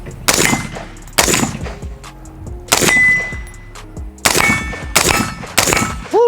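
Six sharp suppressed AR-15 rifle shots, loud and close, each with a bright crack and a short ringing decay, fired at irregular intervals with no talking.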